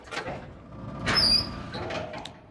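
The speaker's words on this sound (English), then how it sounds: "Now we can unlock the door, keep out." A door in Resident Evil Zero unlocks and creaks open, with a clunk followed by a brief high squeak near the middle and soft knocks after, no talking.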